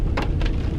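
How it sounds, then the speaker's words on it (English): Rain falling steadily outdoors on a cool, all-day wet evening, a short dense wash of patter with a couple of brief louder splashes. "it's basically been raining the entire day"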